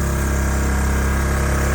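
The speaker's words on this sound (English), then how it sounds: "Well, that's the idling." A small Honda engine idles steadily in a repair shop, a loud, even, continuous running drone heard close up with no talk.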